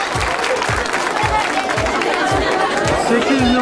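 A theatre audience claps at a Zafer Tiyatrosu prize-draw event, steady and loud, with crowd murmur mixed into the applause.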